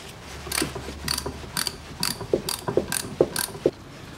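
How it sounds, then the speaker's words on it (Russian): Ratchet wrench with an E10 socket loosening the propshaft-to-flange bolts on a Range Rover Evoque 2.2 during Haldex coupling service, a series of sharp rapid ratcheting bursts repeating every half second or so, close and clear with no talk. "откручиваем по периметру 6 болтов крепления кардана к фланцу"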